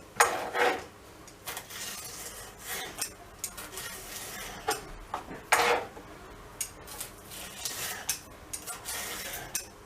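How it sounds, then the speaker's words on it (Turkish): Irregular light knocks and scraping taps of a knife finely chopping vegetables on a board, close and fairly quiet, with no talking. "ince bir şekilde doğrayacağız bunları da"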